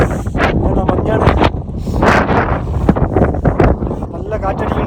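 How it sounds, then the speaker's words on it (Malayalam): Strong wind gusting at Umling La pass on a high-altitude motorbike ride, roaring loudly across the microphone in a constant buffet, with a voice talking under it. "നല്ല കാറ്റടിക്കുന്നുണ്ട്"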